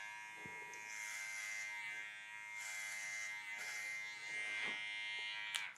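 Electric hair clippers with a 3 guard buzz steadily while fading hair into a weight line on a wavy crop, a close continuous hum with slight shifts in pitch and brief handling clicks.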